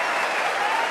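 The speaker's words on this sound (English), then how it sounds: "they're still cheering this crowd" Snooker crowd at the 2017 Masters final applauding and cheering, a dense, steady roar of clapping that fills the whole moment without a break.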